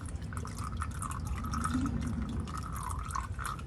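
Car motor oil dripping and trickling into a drain pan, a steady close run of liquid with small splashy drips over a low background hum.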